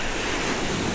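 Surf on a beach in Bali rushes as a steady broadband wash, close and fairly loud, with wind noise mixed in.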